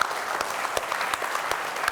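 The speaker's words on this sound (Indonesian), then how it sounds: "Tepuk tangan dulu." Steady applause from a crowd at an Indonesian presidential candidates' health debate, a dense wash of clapping with sharper individual claps standing out, continuous for the whole stretch.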